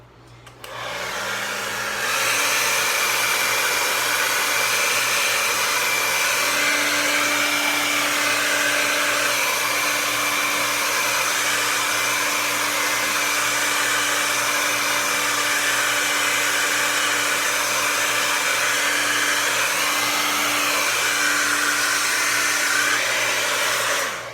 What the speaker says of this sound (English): I'm not even doing anything other than just blow drying.